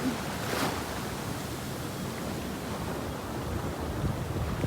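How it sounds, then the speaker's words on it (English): Ocean waves and surf wash continuously along the rocky shoreline at Lands End in San Francisco, a steady broadband roar mixed with wind buffeting the microphone, with no talking. "Don't you guys like the sound of the ocean? The sound of the wave?"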